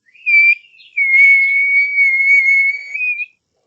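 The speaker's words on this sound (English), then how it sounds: "He asked Harry, holding up his wand, which had just started whistling loudly." A loud, sustained high whistle from a wand holds one pitch for a few seconds after a short opening blip, clear and alone.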